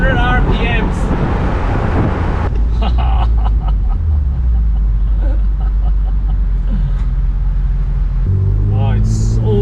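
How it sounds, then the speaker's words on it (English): A BMW M3 E46 convertible engine rises and falls in pitch as gears change, loud and close, mixed with heavy wind noise. "Oh, it's so nice to be shifting gears again."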